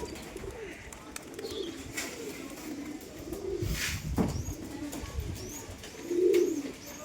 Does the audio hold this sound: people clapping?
no